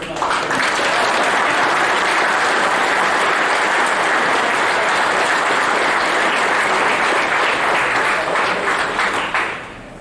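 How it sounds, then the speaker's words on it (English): A room full of guests at the 2022 Birmingham Rugby Hall of Fame presentation breaks into loud, dense applause that holds steady for about ten seconds before tapering off. "So everybody in this room deserves a round of applause for this."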